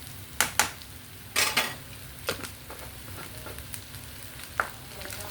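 Ginger garlic paste frying in a pan, with a soft, steady sizzle under several sharp clinks and scrapes of a spoon stirring against the metal, all fairly quiet and close.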